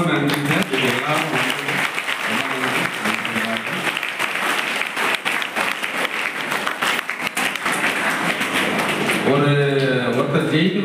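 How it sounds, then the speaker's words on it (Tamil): Audience applause fills a school honouring ceremony, a long, loud, continuous crowd clap, with a person speaking over it near the start and again as it ends. "அது கண்டிப்பாக பெரிய கைத்தட்டல்."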